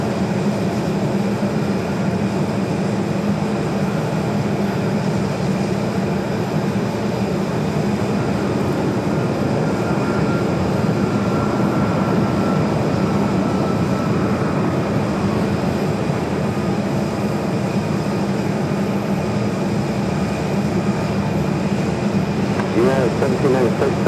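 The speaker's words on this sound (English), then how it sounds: "This is United Airlines 1796 coming in from Newark on the 757-200." A United Airlines Boeing 757-200 landing at Phoenix, a steady broad jet roar that holds throughout at moderate distance, with a faint whine, under someone talking.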